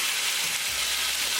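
Lamb meat with spices hitting a hot pan: a loud, dense, continuous sizzle of frying, close and steady throughout, with no talking.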